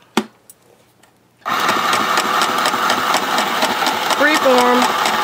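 After a quiet start with a faint tap, a Lil Sew & Sew LSS202 sewing machine starts up and runs steadily, a loud, close mechanical whir with rapid rhythmic clatter, stitching circles.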